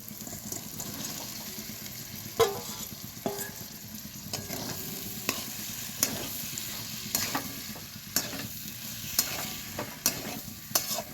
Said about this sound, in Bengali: এবার আমি ভেজে রাখা আলুগুলো মশলার মধ্যে দিয়ে দেবো।